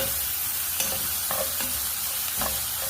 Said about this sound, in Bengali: তেল গরম হলিয়া রসুন আর লবণ দিয়া একটা কাটা পেঁয়াজ দিচ্ছি